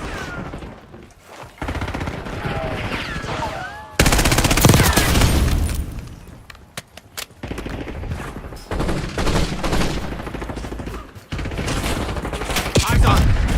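Video game gunfire bursts in loud, rapid automatic volleys separated by short pauses, sharp and close, with some quieter background game sounds between the bursts.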